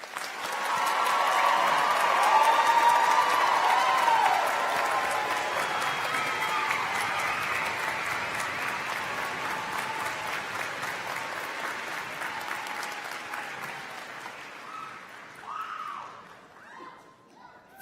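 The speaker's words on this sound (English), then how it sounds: "Audience, please join me in one more round of applause." A large crowd at a college commencement ceremony gives a sustained round of applause that swells early, holds steady, then gradually thins out and fades toward the end.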